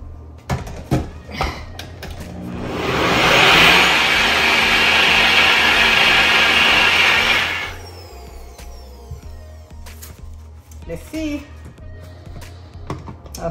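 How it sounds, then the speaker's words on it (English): A kitchen grinder whirs loudly for several seconds while grinding hopper batter with salt, rising to a steady roar and then stopping. Softer handling clatter comes before and after. "Let's grind this."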